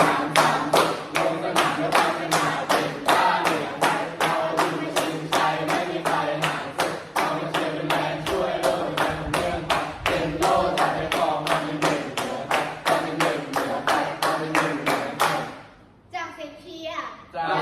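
Rhythmic group clapping at a school sports cheer, sharp even claps in steady beat under chanting voices, stopping abruptly near the end.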